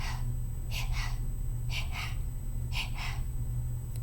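A voice imitates a monster's heavy panting with three pairs of breathy, gasping inhales and exhales at an even rhythm, close over a steady low hum.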